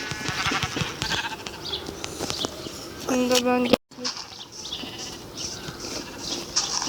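A short sheep bleat rises in the middle of casual chatter, with people talking nearby before and after the call.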